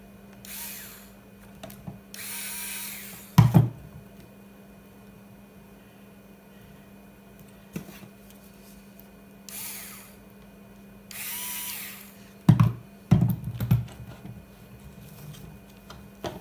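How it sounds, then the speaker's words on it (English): A small Hitachi electric screwdriver driving screws during assembly of a blower unit, several short whirring bursts separated by pauses, with clicks and handling knocks between them, close and fairly loud, no talking. "my little Hitachi electric screwdriver here"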